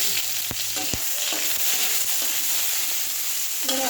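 Chopped onion frying in oil with cumin, a loud, close, continuous sizzle and crackle with a few knocks and scrapes of stirring, no talk.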